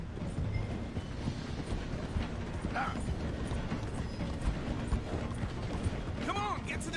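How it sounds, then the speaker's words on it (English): In the Red Dead Redemption II video game, a train rumbles and clanks as it slows through a station while horses gallop alongside with clip-clopping hooves, a steady mechanical roar with brief whistle-like squeals and faint voices under it. "The train is slowing down to go through the station."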